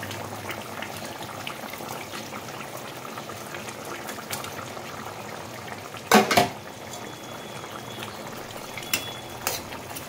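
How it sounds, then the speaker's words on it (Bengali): Tangra fish curry bubbling in an uncovered pot, a steady simmering hiss and burble with no talk, broken midway by a short clatter. "তরকারিটা খুব ভালোভাবে ফুটে উঠেছে"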